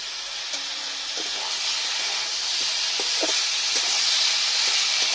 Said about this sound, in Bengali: বেটে রাখা মশলাটা দিয়ে দিচ্ছি, দিয়ে এবার কষে নেব।